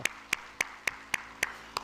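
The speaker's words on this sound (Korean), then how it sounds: "우리 하나님께 영광의 박수 합시다" Church congregation clapping at a Sunday worship service, seven sharp, evenly spaced claps in a steady rhythm, fairly faint and distant with little else around them.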